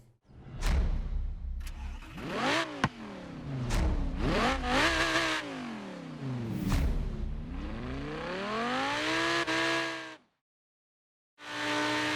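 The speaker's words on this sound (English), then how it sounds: "we're on the move in the Lamborghini Huracan in the middle of Yarra Valley" Lamborghini Huracan engine in the Forza Horizon 3 racing game, driven in the Yarra Valley, accelerating hard through repeated rising revs and gear shifts, loud and close, then cutting out briefly before roaring back.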